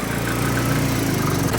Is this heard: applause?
no